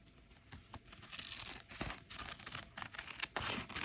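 Scissors cutting out a raw-edge fabric applique piece for a cardinal quilt, heard as a close run of crisp snips and rustling fabric with no voice.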